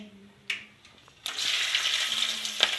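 After a couple of soft clinks, a loud sizzle erupts as garlic and spices for dal tempering hit hot oil, a steady crackling hiss that continues close up.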